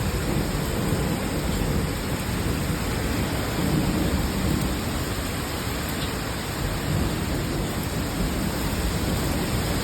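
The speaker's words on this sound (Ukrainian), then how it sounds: "Начебто град сипле." Heavy summer thunderstorm with hail: a dense, loud, unbroken roar of falling rain and hail that fills the whole stretch at a steady level, with no talking.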